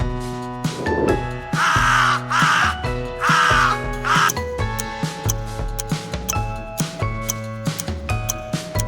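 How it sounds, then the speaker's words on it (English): Several loud, harsh crow caws come in quick bursts close by, followed by a rhythmic ticking that runs under the rest of the sound, with no talking. "Crow."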